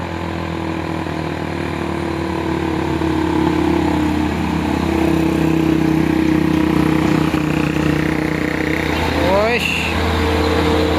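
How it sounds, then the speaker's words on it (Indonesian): A Fuso truck works its engine up a steep hill road, a loud, steady low diesel drone with a passing rise in pitch near the end, while people talk nearby. "Satu unit truk Fuso bosku."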